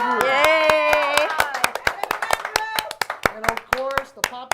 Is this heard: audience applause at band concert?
yes